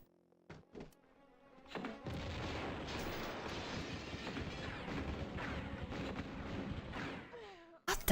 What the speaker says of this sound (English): I'm throwing grenades at them